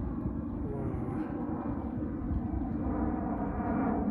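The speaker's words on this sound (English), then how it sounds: "he heard the plane up" A steady low airplane drone rumbles overhead throughout, continuous and moderately distant, with no talking, where Canada geese are feeding.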